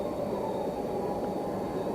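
A freight train rolls along the Tehachapi Loop, a steady low rumble and rolling drone with a faint high whine, continuous and even at moderate distance.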